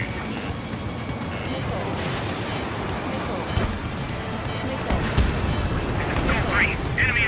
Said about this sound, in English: Missile fire.